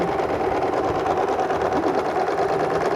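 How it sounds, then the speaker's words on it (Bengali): Sewing machine stitching a piece of fabric after its bobbin case thread is drawn up, a steady, rapid, even mechanical whir running continuously close up with no voices. "আমি আবার এটাকে সেলাই করব"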